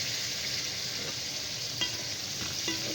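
Meat and onion sautéing together in a pan, a steady close sizzle with soft stirring scrapes and a few light taps, no voices.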